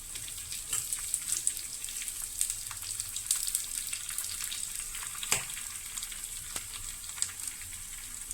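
Chopped shallots, dried red chillies and curry leaves frying in oil for a tempering for moru curry, a faint, steady crackling sizzle with sharp pops and spits scattered throughout, no voices.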